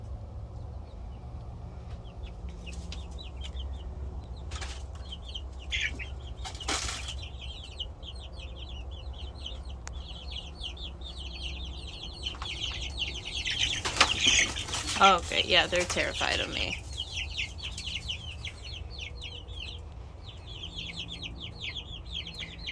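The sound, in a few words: chickens and roosters clucking and flapping wings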